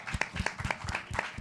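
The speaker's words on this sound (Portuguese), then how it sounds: "Salve de palmas." Audience applause at a panel on peripheral literature and hip-hop: rapid, irregular hand claps, fairly close and steady throughout.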